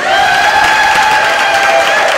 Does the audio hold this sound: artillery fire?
no